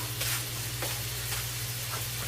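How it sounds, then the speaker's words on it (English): Food sautés in a pan, giving a steady close sizzle with a constant low hum beneath it and a few faint scraping stirs, with no voices. "now we're sauteing our"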